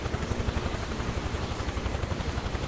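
Helicopter rotor in the Flight Simulator 2024 game, a steady loud rhythmic chop of blades over a broad engine rumble, continuous and close with no talk.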